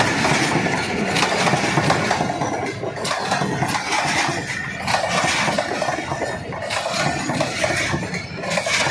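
Passenger train travelling from Rawalpindi towards Hasan Abdal, a loud continuous rumble with rhythmic clattering wheels and rattling cars, steady and close throughout.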